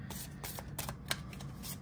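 A thin, flexible oracle card deck being shuffled by hand, with soft papery riffles and slaps repeating in quick bursts at close range, no talking.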